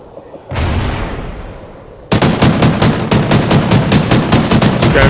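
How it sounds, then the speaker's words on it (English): Gunfire in an esports video game match, spraying through a wall: a loud rushing blast gives way to sustained rapid automatic fire with evenly spaced, punchy shots, close and dominant. "Just going for a little bit of a pre-fire wallbang there."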